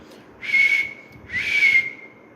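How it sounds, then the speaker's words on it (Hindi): Two long, bright whistle blasts, each about half a second, sound close and loud as a special whistle summoning bees in a Super Commando Dhruva comic audio drama. "बेहोश होते थे बियर्ड ने खास सीटी बजाकर सारी मधुमक्खियों को ध्रुव के पीछे लगा दिया।"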